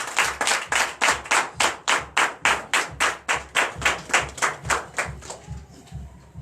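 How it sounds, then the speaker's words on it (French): Worshippers at a Sunday church service in Comè, Benin, clap together in a firm, even rhythm, roughly two sharp claps per second, loud and close, tapering off slightly in the final seconds. "Donnez encore l'acclamation à notre Seigneur Jésus."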